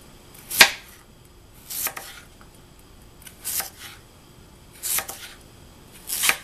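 A sharp knife chops through hard raw sweet potatoes on a cutting board, five crisp separate strikes about a second apart, close and clear with no talking.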